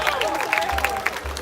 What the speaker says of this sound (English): can we just give a round of applause for all our graduates one more time